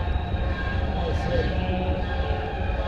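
Train rumbling along nearby railroad tracks, a steady loud low roar with a constant hum running through the whole stretch, close to the listener, with a voice briefly heard over it.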